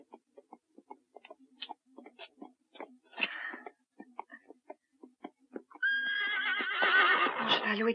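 A horse in a western film clops along with irregular hoofbeats, then lets out a loud, wavering whinny that fills the final seconds.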